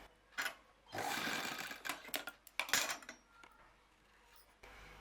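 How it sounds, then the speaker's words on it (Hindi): Sewing machine stitching the sleeve of a frill frock, running in a sustained whir with short stop-start bursts between stitching runs, close and clear with no talk. "इसी तरह हम दूसरी बाजू भी सिलेंगे।"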